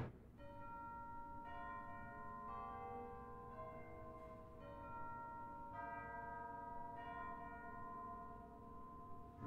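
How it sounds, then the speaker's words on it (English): A 25-note Deegan set of tubular chimes on a church pipe organ rings out a slow sequence of struck notes, each bright tone overlapping and decaying into the next, with sustained organ tone underneath. "This organ has a 25-note Deegan set of chimes on the grate."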